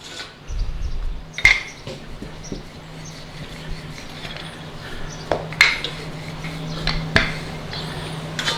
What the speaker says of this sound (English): bit of flour on our pan, and we want to roll out our dough.